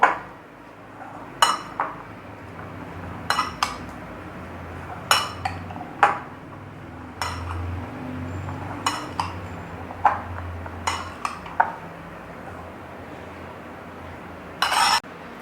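Chickpea salad mixed with black pepper and spices in a bowl, a spoon knocking and clinking against the dish in scattered sharp taps over a quiet room background.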